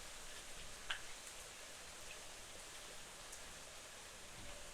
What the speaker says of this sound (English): I love I love the sound of nature, of rain.